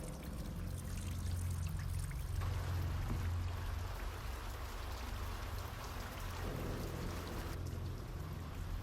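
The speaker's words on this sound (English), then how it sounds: "nothing can stop the rain from flooding the concrete skeleton of this office tower" Heavy rain pours onto and floods the bare concrete skeleton of an office tower, a dense, even hiss of drops and running water that holds steady at a low, distant level without any voices.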